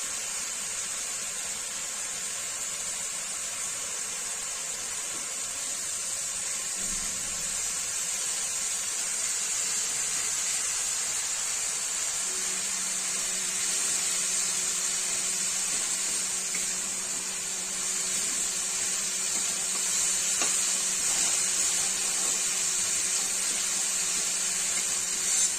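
Onions frying slowly in oil for a Bengali shol fish kalia give a steady, even sizzle that runs throughout, with a faint low hum joining about halfway through.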